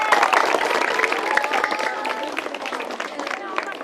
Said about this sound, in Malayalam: ഓക്കെ ക്ലാപ്പ് ചെയ്തേ